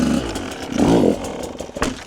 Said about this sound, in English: as the fork is moving up, then you rev your engine and pop